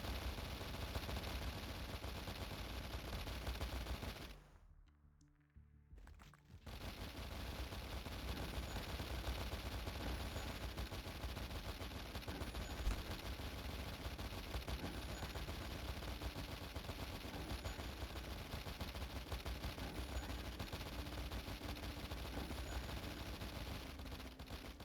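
Gold machine guns firing in the video game Hold The Door, a dense sustained barrage of rapid gunfire that cuts out briefly for about two seconds near the start, then resumes and continues steadily to the end.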